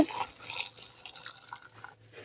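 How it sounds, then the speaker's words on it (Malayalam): Water is poured into a pot of black-pepper curry before pressure cooking, a close, splashy trickle that runs for a couple of seconds with no talk. "വെള്ളം പാർന്നിട്ട്"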